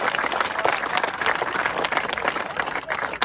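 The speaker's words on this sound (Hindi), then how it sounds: "बहुत बढ़िया भाई, दिल से तालियां।" A crowd at the Vivekanand Defence Academy claps hard and continuously, a loud, close, dense roll of many hands with slight swells in intensity throughout.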